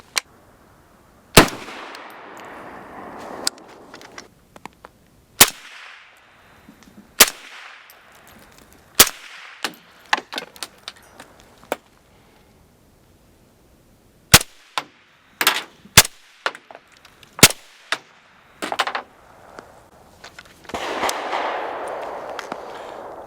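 Suppressed gunshots from a rifle fitted with a Q Porq Chop or YHM Bad Larry suppressor: a string of sharp, loud cracks fired singly at irregular intervals, some in quick pairs, with faint rustling between and no talk.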